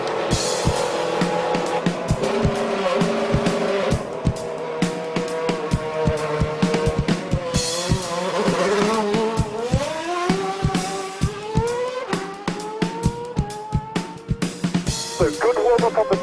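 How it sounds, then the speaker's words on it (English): Bruno Senna's race car weaves on a formation lap before a race start. The engine drones and repeatedly rises and falls in pitch, with quick clicks and bursts as the throttle opens. The car is close and loud throughout. "During this formation lap, the most important thing is to keep weaving, keep putting energy into the tires, into the brakes."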